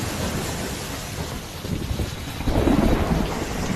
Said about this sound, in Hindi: बारिश के साथ भी हवा की रफ्तार में भी तूफान आने की आहट दिखाई दे रही है।